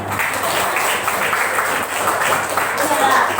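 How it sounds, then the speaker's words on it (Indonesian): Classmates clapping in a classroom during a teaching-practice exam, a steady dense patter of hands running throughout at moderate loudness, with a low hum beneath. "Tepuk tangan deh"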